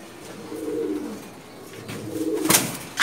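A pair of blue-eyed Jabra pigeons coo softly at close range in a pigeon loft, two rolling, low coos a moment apart, with a brief sharp rustle near the end.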